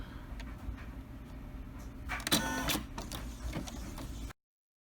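An embroidery machine stitches a satin stitch on a cheap fleece throw, giving a quiet rapid mechanical whir with a louder burst of activity midway before the sound cuts off.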